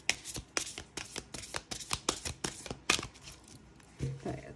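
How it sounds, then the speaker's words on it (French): A deck of cards being shuffled in a riffle, a quick run of crisp, evenly spaced flutters close to the listener, ending in a soft tap as the cards settle. "Je vais mélanger les cartes et on va se tirer une petite carte."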